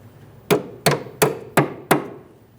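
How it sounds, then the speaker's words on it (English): Five sharp hammer taps on a metal brake hose locking clip of a Nissan Maxima, evenly spaced about a beat apart, each ringing briefly before the next strike. "tap it into position using a hammer"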